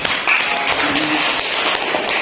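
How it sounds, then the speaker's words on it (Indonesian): A group of teachers and students claps together in a school setting, a dense, steady patter of many hands that fills the whole moment at close range, with no voices over it. "tepuk tangan dulu"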